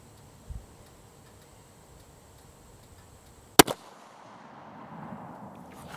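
A single sharp, loud rifle shot from a T/C Compass in 6.5 Creedmoor, fired cold bore outdoors, cracks out after a quiet stretch and fades into a faint echo, with a small click earlier.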